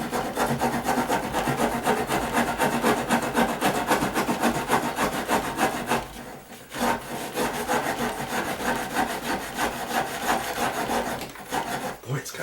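A hand rasp shaves the bottom edge of a wooden door outdoors in a breeze, its close, steady back-and-forth strokes rasping continuously, with a brief break around the middle before the strokes resume.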